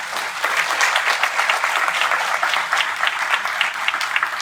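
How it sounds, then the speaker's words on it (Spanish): A conference audience at a keynote lecture on socioformative projects gives sustained, even applause, many hands clapping densely and loudly with no talk over it. "para los cuales pido un cordial aplauso"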